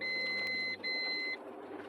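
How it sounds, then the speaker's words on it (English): A Meross MSG200 garage door opener sounds its closing warning: a steady high electronic beep tone, broken by one brief gap, over a low background hum. "if I press to close, that is the warning beep."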